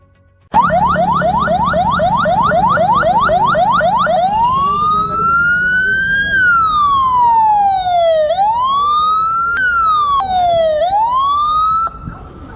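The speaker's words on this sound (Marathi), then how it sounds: "रेस्क्यू मिनी फायर टेंडर नगरपालिकेच्या अग्निशामक विभागाच्या ताफ्यात दाखल झाले" A new mini rescue fire tender of a municipal fire brigade sounds its siren: first a rapid yelping warble, then loud, slow rising-and-falling wails repeating close by, before stopping abruptly near the end.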